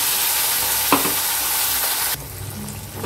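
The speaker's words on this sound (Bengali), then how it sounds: "এবার যে মশলাটা পেস্ট করলাম সেই মশলাটা দিয়ে দিচ্ছি।" Spice paste of ginger and tomato frying with Gobindobhog rice in a pan, a loud continuous sizzle with one sharp knock, then the hiss drops suddenly to a softer, lower bubbling.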